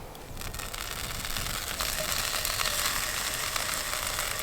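Smoked wild pink salmon fillets seasoned with black pepper sizzle steadily in a skillet at a camp stove beside an AWD Sprinter van, a loud, continuous, close-up hiss and crackle of frying.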